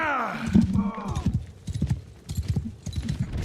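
Cavalry horses gallop in the Warhammer Old Realms mod for Bannerlord, with rapid clip-clopping hoofbeats and a whinny up close, while shouted orders carry over the charge.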